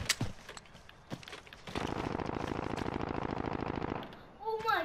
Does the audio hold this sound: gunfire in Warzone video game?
yes